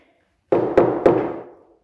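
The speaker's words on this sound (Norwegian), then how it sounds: "Det banker hardt på døra." Three hard knocks on a door in quick succession, each booming and ringing briefly before fading into silence.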